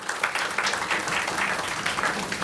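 Audience at a book launch at DHA gives a dense, steady round of applause from many hands, loud and continuous throughout.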